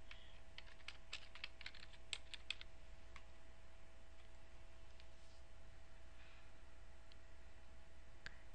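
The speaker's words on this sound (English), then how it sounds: "typing in her last name first." Quiet keyboard typing while a surname is entered into a library resource search: scattered light key clicks in short bursts, clustered early and then sparse, over a steady low hum.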